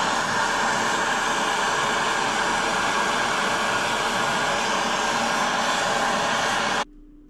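A MIG welder lays a weld near a nut on a motorhome, giving a steady, loud, close hissing crackle for about seven seconds before it cuts off abruptly.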